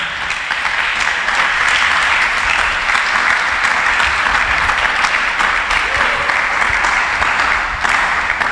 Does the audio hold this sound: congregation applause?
yes